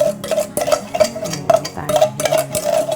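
Strawberries stirred with sugar in a bowl or pot, giving light repeated scraping and clinking of a utensil with soft ticking contacts, close and steady, with no talking.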